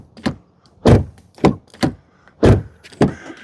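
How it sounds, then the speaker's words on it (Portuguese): Door of a Kia Niro HEV hybrid car shutting several times, each a short solid thunk with a brief rattle, close and clear with quiet gaps between and no talking. "Vamos ouvir o barulhinho da porta aqui."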